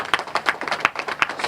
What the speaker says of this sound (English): I want us to also once again give a round of applause for Mr.